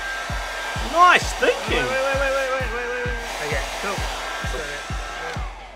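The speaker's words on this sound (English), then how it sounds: "Wait, try the hairdryer." A hair dryer blows on the ears of a Build-a-Bear plush toy, a continuous close whir with a rapid rhythmic ticking underneath, while people talk and exclaim briefly over it.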